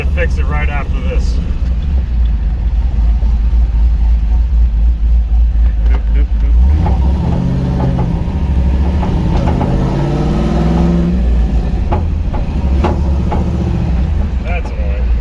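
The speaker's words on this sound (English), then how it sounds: "That's the exhaust banging on either the frame or the rear differential" An LS-swapped 1989 Chevy S10 Blazer drives with a loud, steady low engine rumble close by, while a few sharp metallic knocks from the exhaust striking the frame or rear differential break through. Voices talk over the drone partway through.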